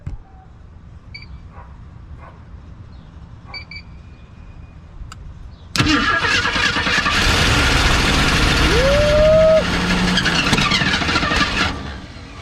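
An AMC Pacer engine cranks and fires up at about the six-second mark, then runs loud and rough close by with a rising whine partway through, after a few seconds of quiet with faint beeps.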